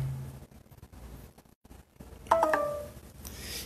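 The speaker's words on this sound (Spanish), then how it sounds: "el teléfono acaba de decir que estamos bajitos de batería" A mobile phone gives a brief low-battery alert: a short cluster of clear electronic tones near the end, fairly quiet, standing alone in a hushed room with no talking.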